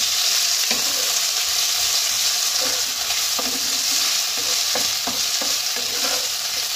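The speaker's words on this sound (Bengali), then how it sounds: "এবার এটা এর সঙ্গে ভেজে নেব পেঁয়াজটা।" Onion fries in a pan with a broad, even sizzle, while a spoon stirs it with scattered scrapes and taps, close and steady with no talking.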